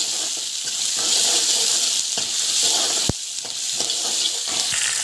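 Onions and asafoetida sizzle steadily while being sautéed in oil in a pan, a constant close frying hiss with a sharp clack of a spoon against the pan midway and light stirring scrapes throughout.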